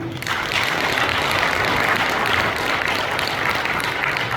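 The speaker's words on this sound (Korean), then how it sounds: "모두 큰 박수 부탁드립니다" Audience at an agricultural cooperative's inauguration ceremony for a new chairman breaks into loud, dense applause that starts abruptly and stays steady for several seconds.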